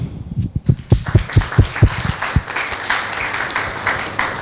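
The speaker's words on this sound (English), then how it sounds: "I think one more round of applause." An audience applauding after a heritage conservation lecture, with a burst of distinct claps and thumps at the start that thins into a softer, scattered patter before fading.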